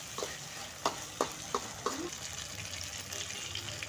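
Tomato pieces sizzle in a hot pan as a spoon stirs them, with five sharp scraping knocks close together near the start, then a steadier, softer frying hiss.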